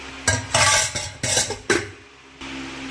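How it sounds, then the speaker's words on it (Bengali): A wok and a bowl scrubbed by hand, several loud scraping strokes with metallic clatter, a brief pause, then a quieter stroke at the end. "কড়াইটা আর ফ্যানের গামলাটা মাজলেই হয়ে যায়।"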